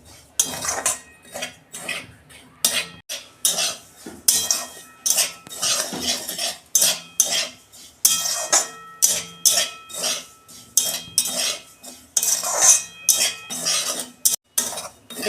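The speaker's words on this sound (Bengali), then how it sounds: "একটু লাল লাল করে ভেজে নেব।" A metal spoon scrapes and clatters against a pan as semolina is stirred and dry-roasted for upma, a loud, rhythmic series of close scraping strokes with no talk.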